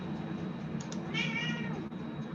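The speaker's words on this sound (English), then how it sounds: "Oh, I heard a cat." A cat meows once, faintly and in the background, during an online class, the short mewing call rising over a low steady hum.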